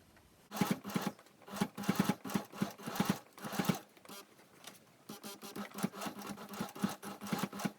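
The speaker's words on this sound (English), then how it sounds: "we're going to do what's called stitch in the ditch, which is stitching a line right on the edge between the black and the cream" Sewing machine stitching a sleeping mask in black and cream fabric, with elastic, along the seam between the two colors. Several close, loud bursts of rapid stitching are broken by short pauses. Nobody speaks.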